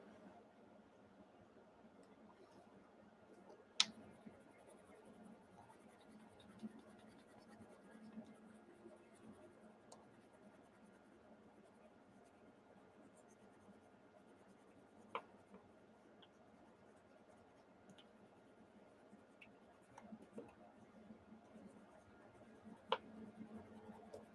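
A marker colors on marker paper in a soft, continuous scratchy stroke, with occasional small taps and ticks. It is close but faint and steady, with no voices.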